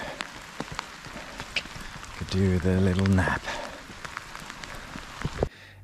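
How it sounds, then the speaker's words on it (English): Heavy rain pours steadily through the night over a 400 m running track, a broad patter of drops under a brief spoken line midway. "the rain had been blasting us for about 4 hours"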